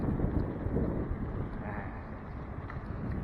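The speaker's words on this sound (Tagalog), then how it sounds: "Napakalamig ng hangin." Steady, rough wind noise rumbles and buffets against the microphone throughout, loud and continuous with no clear breaks, outdoors at Green Meadows on the U.P. campus on a cold day.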